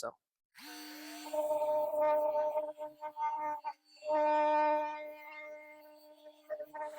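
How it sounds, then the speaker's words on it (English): A power sander whines up and runs in on-off bursts while sanding glossy paint off a thrift-store mirror frame, with a voice talking between and over the runs. "I'm just going to use a power sander."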